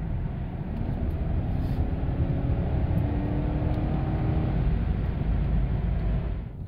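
A Lexus GS400/LS430 V8 with a Tom's Super Ram II drop-in air filter roars with a deep, rising rumble, heard from inside as it pulls hard, then eases off at the end.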